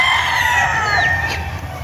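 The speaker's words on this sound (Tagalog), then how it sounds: "ito pa yung iba nilang manok" Chickens and a rooster on a farm in Montalban, Rizal, crowing and clucking close by, with a rising crow rolling over steady cackling.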